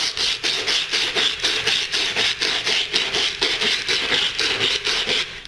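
Sandpaper threaded behind a leaking metal water pipe inside a wall is rubbed back and forth in a quick, steady rhythm of rasping strokes, close and loud, with no talking.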